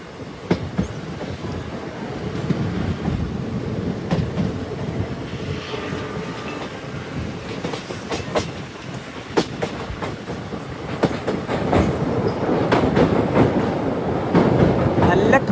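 The Boat Mail Express sleeper train from Rameswaram to Chennai rumbles across the Pamban sea bridge, a loud steady roar of wheels and wind heard from inside, with sharp clicks and rattles that build toward the end.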